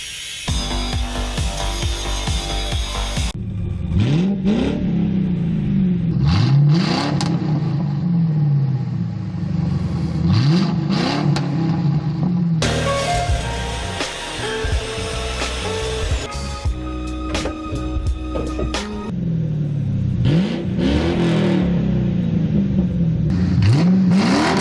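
A 2011 Mustang GT with its mufflers cut off, revving hard in repeated loud bursts that rise and fall, raw exhaust roaring and crackling between pulls, close and with no one talking.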